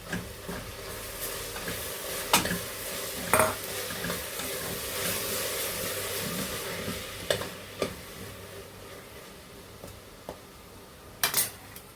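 Onion with a crushed paste of ginger, green chilli, garlic, mint and coriander leaves sautés in a pan for mutton biryani, giving a steady soft sizzle broken by a few sharp spatula scrapes and taps against the pan.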